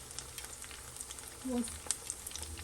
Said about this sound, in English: you're just gonna fry it until it turns a nice color on the back